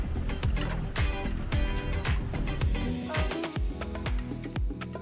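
Bamboo stalks in a garden grove clacking against each other in the wind, a steady scatter of hollow knocks and clicks over a dense, busy outdoor background, moderately near and fairly quiet.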